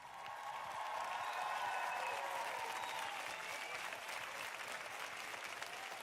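Audience applause follows a member's homebrew review, with steady, dense clapping that swells early and then holds at an even level.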